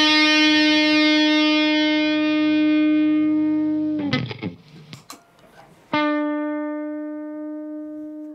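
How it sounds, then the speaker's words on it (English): An electric guitar through a Big Muff distortion and sustainer pedal holds a long, fuzzy, sustained note that slowly fades. A scrape of strings and pick noise follows, then another thick sustained chord rings out and decays. "It's coined as a distortion slash sustainer."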